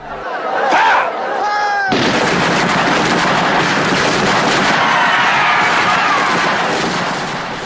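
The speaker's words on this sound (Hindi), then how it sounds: "इसीलिए उन्होंने रोशन सिंह व दूसरे क्रांतिकारियों पर फायरिंग शुरू कर दी।" Gunfire from British soldiers shooting at revolutionaries, a dense, sustained burst of loud crackling shots that starts abruptly after a short musical sting and continues without a break.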